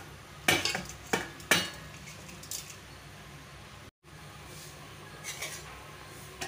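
Rice goes into the pan and is stirred, giving three sharp metallic scrapes and clinks near the start, a brief silence, then softer scraping strokes against a low background.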